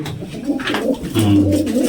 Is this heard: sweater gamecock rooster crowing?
no